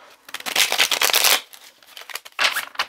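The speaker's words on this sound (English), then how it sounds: "Let's give it one more shuffle." A deck of tarot cards is shuffled close up in two quick riffling bursts of crisp flapping, separated by a short pause.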